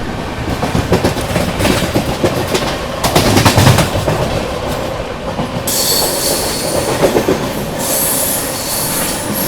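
The 22222 CR Rajdhani Express runs at speed while overtaking the GT Express, heard from inside a First AC coach: loud continuous rumble with clattering wheels, sharp knocks and a high wheel squeal joining midway, no voices.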